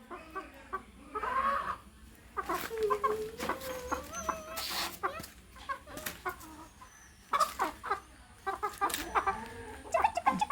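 Domestic hens cluck in scattered bursts, with short, throaty calls and occasional louder squawks over a quiet yard background. The birds sound fairly close and uneven in rhythm, and no one talks.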